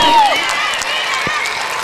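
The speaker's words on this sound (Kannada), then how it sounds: "ಜೋರಾದ ಚಪ್ಪಾಳೆ ಬರಲಿ" Dense applause from an audience at a school annual and graduation day event, loud, steady clapping mixed with crowd noise that fills the whole stretch.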